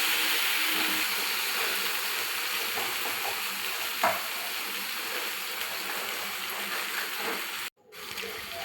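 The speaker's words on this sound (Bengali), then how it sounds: "মশলাটা আমি ভালো করে কষিয়ে নেব" A spice masala with ground coriander is stir-fried in a pan for Bengali doi chicken kosha, giving a close, steady sizzle. There is a single soft knock midway and a brief break in the sound near the end.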